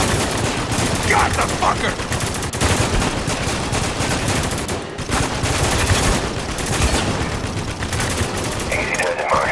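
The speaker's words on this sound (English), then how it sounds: "We're taking heavy fire!" Heavy, continuous gunfire in the war shooter Spec Ops: The Line, dense overlapping bursts of automatic weapons filling the whole stretch at close range, with a shouted voice over the shooting.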